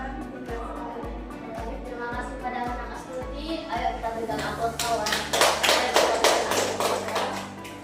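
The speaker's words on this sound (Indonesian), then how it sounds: "Ayo kita berikan aplaus kawan" A classroom gives a student a round of applause after a Bahasa Indonesia lesson presentation: a few slow, even taps at first, then a dense burst of many hands clapping that peaks and fades out.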